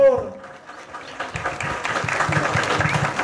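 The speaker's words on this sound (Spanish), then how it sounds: "Fuerte las palmas para ella, por favor." Applause from an audience at an outdoor regional governor's road inauguration event in Peru, building after a brief voice at the start into steady, dense clapping with crowd noise through to the end.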